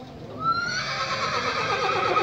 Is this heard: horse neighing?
yes